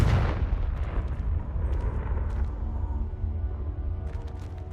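A Confringo fire spell erupts in Hogwarts Legacy with a loud, close blast that roars and rumbles on as a sustained fiery boom, with faint crackles and small pops scattered over the tail.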